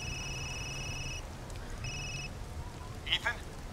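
A telephone rings in the video game Resident Evil Village, giving two electronic ring bursts separated by a short pause, faint and steady beneath quiet ambience, followed by a brief sound effect.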